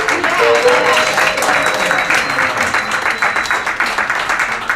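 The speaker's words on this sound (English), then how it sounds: "Give him a nice big round of applause for all the great work he does." A comedy show audience in Washington, D.C. claps steadily for several seconds, a dense close wash of hands with a faint voice or two beneath it.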